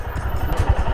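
A motorcycle engine runs near Pangong Lake in Ladakh, a steady, close, loud throbbing putter with no talking.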